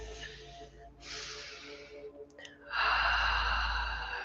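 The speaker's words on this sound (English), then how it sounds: "Taking a deep, full breath." A deep, full breath during a yoga session, with a broad airy inhale around one second, a pause, then a louder, longer whooshing exhale near the end, close and alone without talk.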